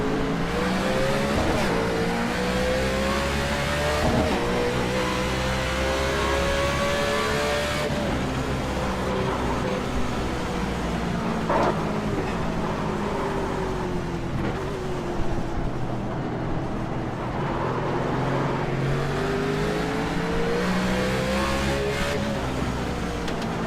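A NASCAR race car at Sonoma Raceway in the iRacing simulator, engine droning loudly and rising in pitch through repeated acceleration and gear changes, with brief tire slide squeals, no talk.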